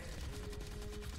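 Rapid bursts of enemy gunfire in the side-scrolling shooter Huntdown, a dense, fast run of shots packed into a single second and heard without any talk.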